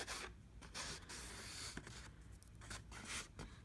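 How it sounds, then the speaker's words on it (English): A fingertip rubbing thin foil pieces onto a copper egg, making soft, close scratchy rubbing strokes in short repeated bursts, quiet and with no talk. "I just take my little finger and I just rub them in."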